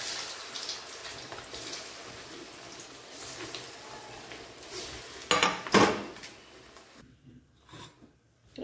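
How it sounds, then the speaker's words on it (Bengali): Rohu fish fritters frying in hot oil in a kitchen pan, a low continuous sizzle joined by clinking utensils and a louder burst of scraping and stirring near the end before it drops almost silent. "বাকিগুলো এইভাবে করে ভেজে নেব।"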